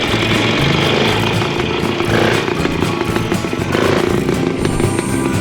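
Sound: two-stroke motorcycle engine revving

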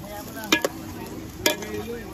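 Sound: native chicken frying in pot, rendering fat

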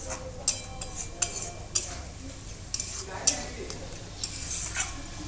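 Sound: stirring Maggi noodle soup with green chili in a pan

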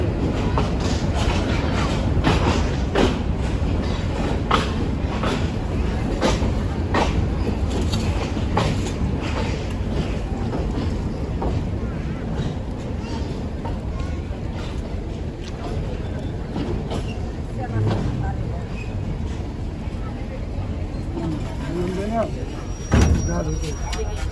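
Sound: train at Shyampur railway station

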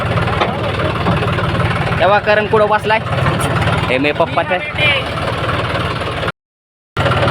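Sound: tractor engine idling

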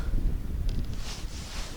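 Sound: strong wind on a winter perch fishing trip

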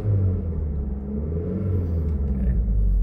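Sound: 2011 Mitsubishi Eclipse Spyder engine revving

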